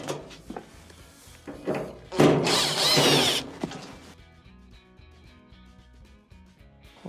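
Phillips screws being removed from a clothes dryer panel with a power driver, a few short taps followed by a loud buzzing burst of the driver, then quieter handling noise.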